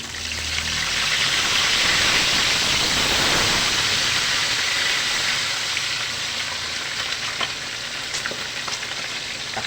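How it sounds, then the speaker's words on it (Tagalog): Crispy pata pork knuckle deep frying in hot oil, a loud, dense sizzle and bubbling crackle that swells early then settles into a steady hiss, with a few sharp pops near the end. "I-deep fry na po natin ang ating crispy pata."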